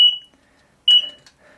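The buzzer on an IPEX Genesis F3 electrofusion processor sounds two short, loud, high electronic beeps about a second apart, with near silence between them.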